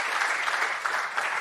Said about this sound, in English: if we can all show a round of applause